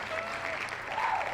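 A short burst of crowd applause with some cheering, a brief, moderately loud clapping wash that lasts only a moment.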